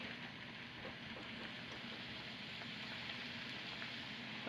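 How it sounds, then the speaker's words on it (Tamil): Samosas deep-frying in moderately hot oil in a pan, a steady, quiet bubbling crackle that holds evenly throughout without pause. "இப்போ நம்ம அந்த சமோசா எல்லாம் ஆயிலில் பொரிச்சு எடுக்கலாம்"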